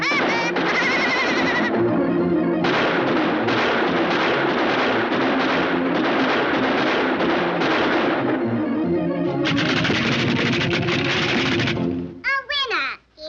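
Cartoon gunfire in a Woody Woodpecker shootout duel, a dense, loud barrage of rapid shots and blasts with music underneath, ending in a few wobbly squeaks.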